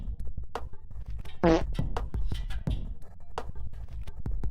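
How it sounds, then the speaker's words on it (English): A fart sounds over a steady beat, one short buzzing blast standing out from the rhythmic thumps and clicks. "That fart was not part of the beat I'm playing"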